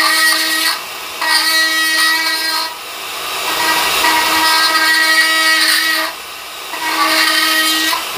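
A powerful rotary carving tool with a round burr grinds into dead wild olive wood, its high steady motor whine swelling and dipping in several passes as the burr bites and lifts, close and loud.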